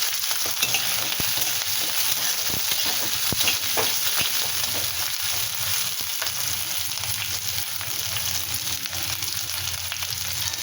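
Two chillies, onion and garlic sizzle in a little oil in a pan, a steady frying hiss broken by occasional clicks of stirring, close and without talk.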